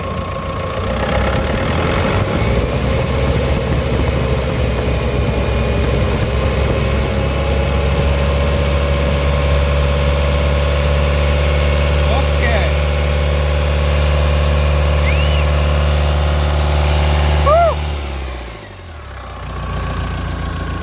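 A Mahindra Thar diesel engine idles steadily close by with a low rumbling hum, then cuts off near the end, leaving quiet.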